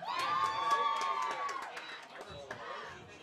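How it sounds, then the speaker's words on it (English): Crowd cheering and shouting at a high school football game after a tackle, a dense burst of voices that swells then tapers off over a few seconds. "The Tyler Holland cheering section stood up for it."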